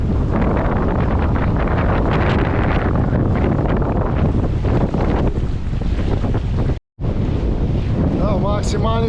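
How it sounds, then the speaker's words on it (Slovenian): Strong wind gusts, over 30 knots, roar steadily across a sailboat anchored in a sheltered bay off Sardinia, with heavy microphone buffeting and rushing water, near-continuous and loud with only a brief drop. "Danes je ful vetrovno."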